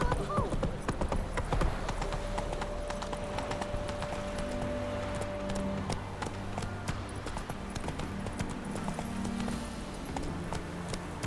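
Geralt's horse Roach from The Witcher 3 galloping, a fast continuous drumming of hoofbeats running throughout under game music and ambience, with a brief faint whinny.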